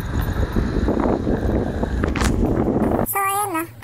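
Heavy wind buffets the microphone for a few seconds during a motorcycle ride, rumbling loud and close, then drops off as a voice starts speaking.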